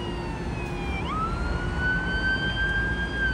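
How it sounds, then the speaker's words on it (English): A fire engine siren wails on a farm road, loud and close, its pitch sweeping and shifting as the truck approaches over a constant engine rumble, with no talking. "Fire engine's coming down now."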